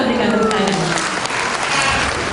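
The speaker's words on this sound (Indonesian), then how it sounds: "Boleh kita berikan tepuk tangan." Audience at a stock exchange year-end closing ceremony applauding, a loud, dense, continuous burst of clapping filling the room with faint voices mixed in.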